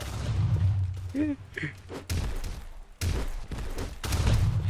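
Gunshots ring out in the Roblox game Bulked Up, several loud bursts of fire in rapid clusters with thuds between, while a voice talks excitedly over them.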